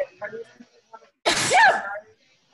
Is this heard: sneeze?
yes